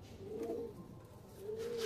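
Two soft, drawn-out coos from pigeons at a breeder's loft, faint and separated by a short pause over a quiet, hissy background.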